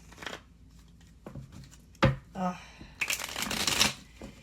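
A deck of tarot cards being shuffled up close, with quick riffling bursts and soft taps between them.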